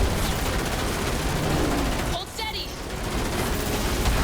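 Dense, rapid gunfire from The Matrix Awakens video game on PS5, a loud continuous barrage that dips briefly in the middle before resuming.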